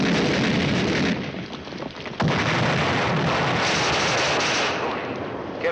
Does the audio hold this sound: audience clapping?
no